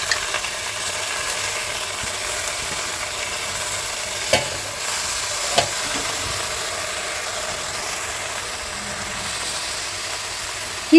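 Washed gongura leaves frying in oil in a kadai give a soft, continuous sizzle and hiss, with occasional louder scrapes and knocks of a stirring spoon against the pan.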